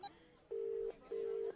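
A telephone call is placed, and two long, steady ringback tones sound on the line, evenly spaced with a short gap between them, clear and close.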